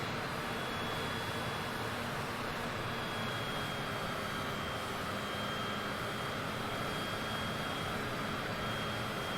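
An airplane comes in to land at Paris with its flaps down in Microsoft Flight Simulator, a steady, loud engine roar and wind rush that holds constant throughout with no talking.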